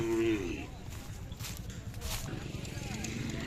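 Khillar cows at a crowded livestock market fair at the Siddheshwar yatra in Vijapur give a loud moo at the start, followed by busy crowd noise and nearby talking.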